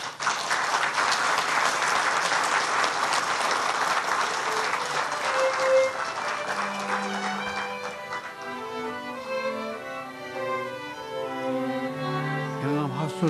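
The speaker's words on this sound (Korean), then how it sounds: "나오실 때 큰 박수로 환영해 주십시오." Audience applause welcoming a speaker at a Korean academic award ceremony, loud dense clapping that gradually thins and fades as tonal music rises underneath toward the end.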